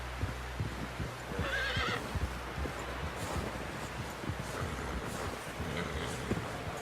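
A horse in Red Dead Redemption 2 whinnies loudly once, while hooves clop and shuffle steadily underneath amid soft rustling in a cold outdoor scene.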